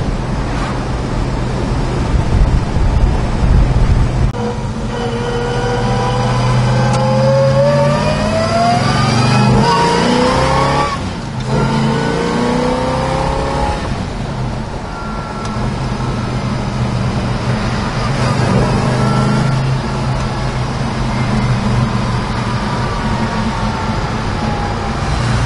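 A big-block 1964 Chevrolet El Camino drives along, its engine note rising and falling through gear changes in a steady, loud cabin drone with no one talking.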